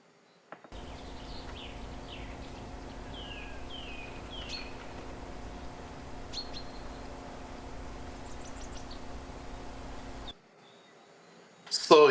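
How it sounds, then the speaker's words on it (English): Birds chirp and tweet in the background with repeated short, high calls scattered over a steady low hum of a running pool pump, with a sudden louder burst of noise at the very end. "You can hear the birds in the background even more distinctly."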